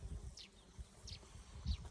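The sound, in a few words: bees buzzing over Hijazi alfalfa at an apiary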